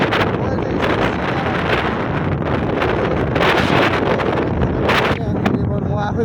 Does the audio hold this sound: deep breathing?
no